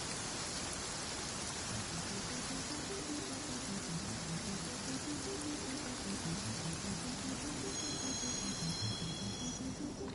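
Steady rain falling in the Genshin Impact video game, a dense continuous patter of drops across the whole span, soft and even with no talk.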